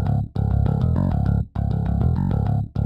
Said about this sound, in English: So the EZBass preset sounds like this.